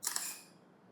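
Camera shutter taking a photo: a quick double mechanical click close by, crisp and fairly quiet, fading into near silence, with no talking.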